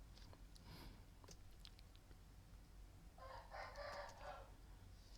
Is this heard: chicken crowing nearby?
yes